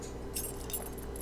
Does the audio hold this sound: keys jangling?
yes